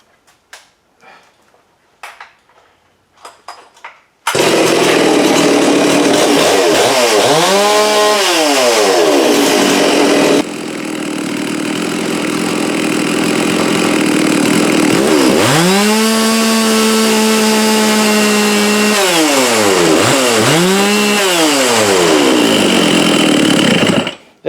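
A hard-starting Farmertec 660 chainsaw gets a few quiet pull-cord tugs, then bursts into a loud close-up roar, idling and repeatedly revving up and back down in sweeping surges.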